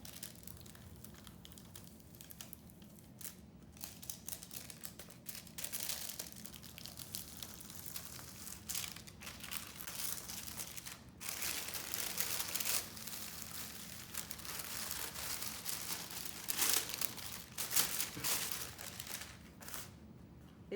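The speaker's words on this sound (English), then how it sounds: "When you're pulling the paper off," Paper backing is peeled off a hot plastic-laminated Dollar Tree calendar cushion cover, giving faint, continuous crinkling and tearing rustles with irregular louder crackles, close and quiet, with no talking.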